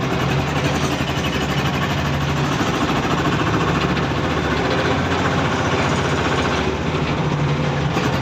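A vehicle fresh from a clutch replacement, driven in third gear on a test run, its engine a loud, steady, close drone with a rough rhythmic pulse throughout.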